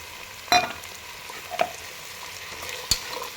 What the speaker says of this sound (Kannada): ಈ ರೀತಿಯಾಗಿ ಫ್ರೈ ಮಾಡ್ಕೊಳ್ಳಿ ಇದನ್ನು